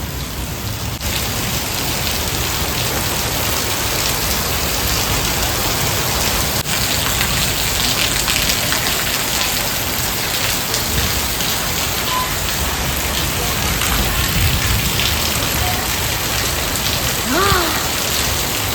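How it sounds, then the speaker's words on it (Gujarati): Heavy rain pouring at night, a loud, dense and unbroken patter close by that holds steady throughout, with no clear voices over it. "રાતના 12 વાગવા આવ્યા હશે ને વરસાદ ચાલુ થઈ ગયો છે."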